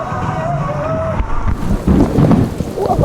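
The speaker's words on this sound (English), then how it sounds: "It literally just started raining." Rain suddenly starting over a water park's lazy river, a broad rushing hiss that swells and thickens in the second half, with wind buffeting the microphone and faint water sounds underneath.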